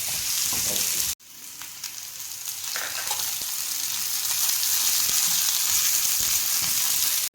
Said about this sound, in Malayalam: കുഞ്ഞുള്ളി ഇട്ടു ഒന്ന് ചെറിയൊരു ബ്രൗൺ കളർ ആയി കഴിഞ്ഞ് കഴിഞ്ഞാൽ നമ്മൾ ലാസ്റ്റ് കറിവേപ്പില ഇടുന്നു